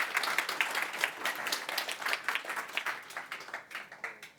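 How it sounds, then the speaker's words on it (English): A small conference audience claps for a few seconds, moderately loud at first and thinning out toward the end. "let's give her a warm welcome with our applause."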